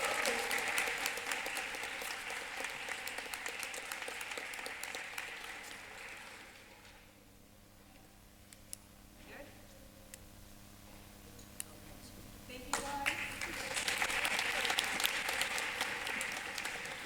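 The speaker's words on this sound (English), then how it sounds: "big round of applause for all of our 11 to 14s" Audience applause at a youth speech competition finals, steady crowd clapping that fades to near quiet with a few isolated claps, then swells again loudly at the end.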